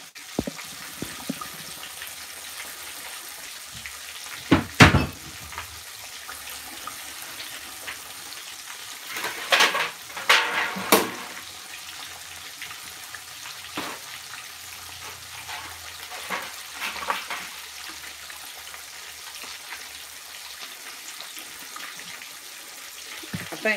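Steady oil sizzle and crackle of catfish frying, with occasional sharp pops and clinks of utensils against the pan.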